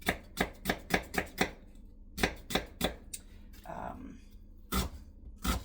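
A knife chopping red onion on a board, quick bursts of sharp close chops in rhythmic runs, separated by pauses with a brief spoken moment.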